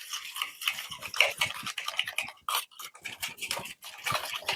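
Sugar, cardamom and salt are beaten briskly in a bowl, with quick irregular scraping and tapping strokes, close and fairly quiet, with no voices.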